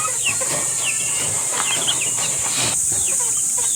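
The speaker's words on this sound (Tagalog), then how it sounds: "Napakalaking manok ito" A large GRS Gray rooster with a pea comb clucks in short, repeated bursts over a constant bright buzz of background noise on a farm.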